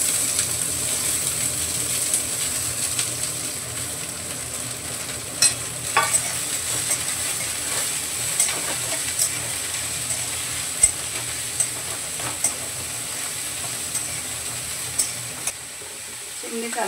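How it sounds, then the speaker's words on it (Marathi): Onion tempering sizzles in a pan while a kitchen chimney hood runs, a constant airy hiss and hum with occasional clicks and stirring taps over about seventeen seconds, fairly steady and mid-level. "फोडणीचा, चिमणीचा आणि माझा आवाज एकत्र होऊन जातो बघा."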